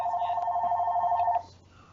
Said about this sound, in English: Hey, your phone ringing.